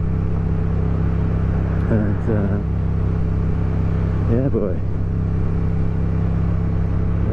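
A 2023 Yamaha MT-07 motorcycle pulling at low revs in second gear, its steady close engine drone running under wind noise while a rider talks briefly twice.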